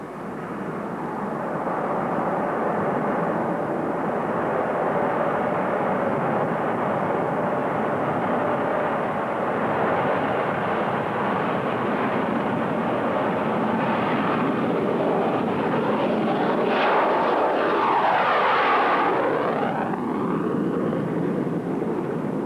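A US Navy F-14 Tomcat jet takes off, a broad roaring engine rush building and swelling louder toward the end as it passes nearby, sustained and dense throughout.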